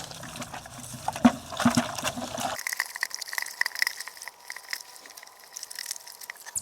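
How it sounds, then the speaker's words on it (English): Water gushes and splashes into a bucket for a couple of seconds, then gives way to quieter trickling and faint handling noises. "Get a bucket, put some water in the bottom."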